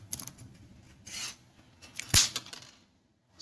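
Transformer winding wire for an inverter is cut, with scraping and rubbing handling noises followed by one sharp snip near the middle, then silence.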